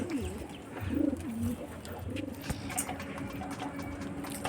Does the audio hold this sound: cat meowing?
no